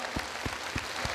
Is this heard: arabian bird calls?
no